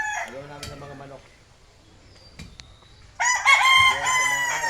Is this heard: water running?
no